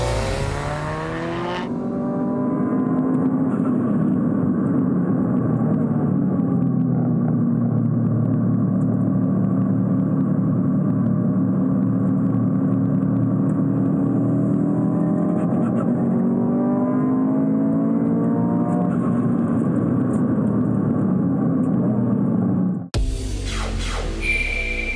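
A Porsche GT3 RS time-attack car with a turbo conversion, 2.2-litre engine and wide body laps Tsukuba circuit, a loud sustained engine note that rises and falls through the gears and corners with no talk.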